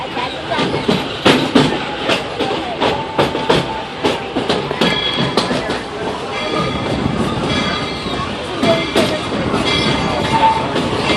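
The Magic Kingdom railroad train runs along its track with a steady rumble and rhythmic clickety-clack, with brief squeals and clanks heard up close from onboard.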